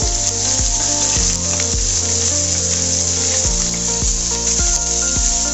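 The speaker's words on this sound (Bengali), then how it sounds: "সবগুলো মাছকে ভেজে নেব।" Pieces of sea fish sizzle steadily in hot oil in a frying pan, a loud continuous crackle with occasional clinks of a utensil.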